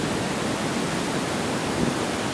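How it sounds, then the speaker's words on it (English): Water rushing at GOGO Waterfall, a steady, full broadband roar that is constant throughout with no voices over it. "You can hear the sound of the water."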